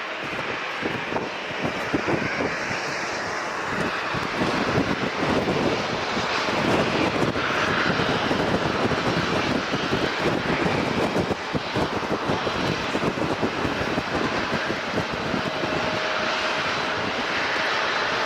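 A Southwest Boeing 737-7 jet airliner, arriving from Seattle, lands at San Diego International. Its engines roar loudly and continuously, with wind buffeting the microphone throughout.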